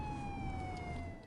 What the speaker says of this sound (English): I began to hear police sirens.